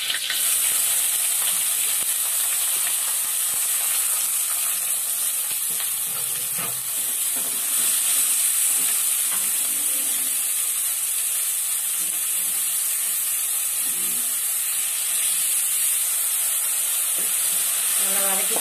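Curry leaves and onion sautéing in a pan for a crab curry: a steady, loud sizzling hiss, with occasional stirring scrapes and clatters over it.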